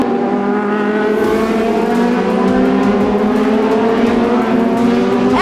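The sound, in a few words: race cars driving fast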